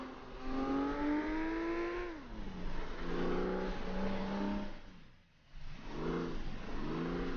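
A racing car engine in the video game FlatOut revs and climbs through gears, pitch rising then dropping at each shift, with a brief dip before it surges again, loud and close throughout.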